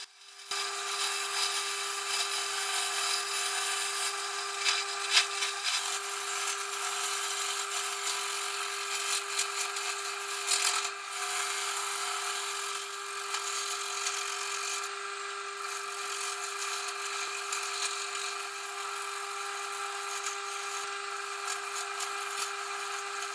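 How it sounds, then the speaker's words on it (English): Carbide lathe tools, first a square-end cutter and then a round one, turn away a PLA plastic mold, giving a steady close scraping and cutting whine over a constant motor hum that runs without pause throughout. "I start with a square end carbide tool to remove all the rough edges, before taking over with a round carbide which removes the PLA mold easily."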